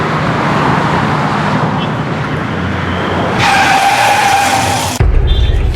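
A car turning sharply on a road, its tires squealing and skidding loudly and close in a sustained screech, followed by an abrupt shift to a heavy rumbling burst.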